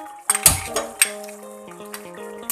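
Spices, salt, sugar and ginger paste being stirred into vegetables and tomatoes in a pan, with a few metallic clanks and scrapes of a spoon over a soft sizzle and a steady background tone, close and without talk.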